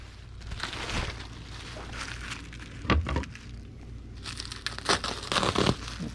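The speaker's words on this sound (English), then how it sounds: "We'll need a sheet of bubble wrap." A sheet of bubble wrap is cut in half and handled for packing a CD, giving soft crinkling, rustling and a few sharper snips and crackles at close range, with no talking.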